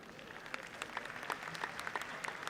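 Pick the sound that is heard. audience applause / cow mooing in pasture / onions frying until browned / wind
audience applause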